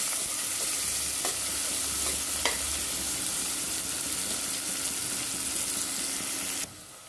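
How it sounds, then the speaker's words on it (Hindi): Onion frying in a pan makes a constant close hiss with a few faint scraping stirs, and the sizzle drops away abruptly near the end. "आणि कांदो बरो फ्राय करून घेऊया"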